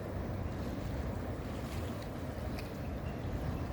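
Steady, loud rushing floodwater roars continuously from a dam during a flood in Thailand, a broad turbulent wash pouring through the dam outlet, with wind buffeting underneath.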